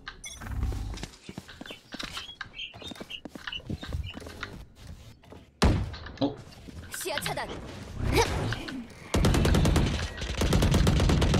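Valorant gunfire in rapid bursts of sharp cracks and automatic rattles, loud and close, with a sustained burst of fire toward the end; a player talks between the shots.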